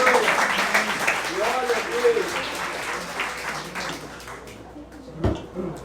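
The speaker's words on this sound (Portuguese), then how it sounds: "dê uma salva de palmas ao Senhor" A church congregation applauds, with scattered clapping that thins and fades over several seconds while a voice speaks over it.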